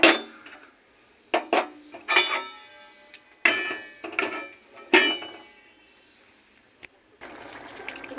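Metal lid and cooking pot clanking as the lid is set on while making bati chachchari, several sharp close knocks and scrapes, followed by a faint simmering hiss.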